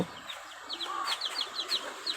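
Native chicken chicks newly hatched from an incubator peep and cheep in quick, high, repeated chirps as they move about, faint but continuous.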